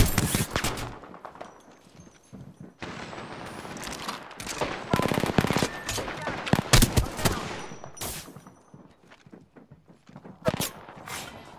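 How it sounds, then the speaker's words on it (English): Gunfire in the Apex Legends video game: rapid bursts of automatic shots and single cracks come loud and near in uneven clusters, with short pauses and footstep-like clatter between. "Opening fire."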